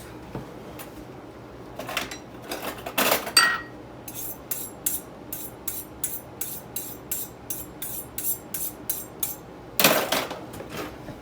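Taco dinner prep begins with a cutting board and knife being set out in a home kitchen: repeated light clatters and knocks of wood and metal, with a few louder thumps, steady and close, with no talking.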